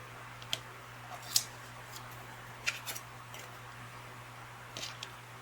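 Scissors trim paper-pieced quilt fabric in a few quiet, sharp snips spaced across a hushed room with a low steady hum beneath.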